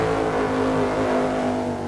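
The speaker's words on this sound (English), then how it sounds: "a couple of cars that aren't so quiet" Drag racing cars at the NHRA finals in Pomona, a deep, loud, steady engine roar with strong low harmonics that rumbles continuously and eases slightly at the very end.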